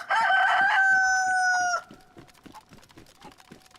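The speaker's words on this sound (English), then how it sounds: "I heard that chicken" A rooster crows loudly and close in one long sustained call, then a chicken clucks in a steady, quieter rhythm that continues alone afterward.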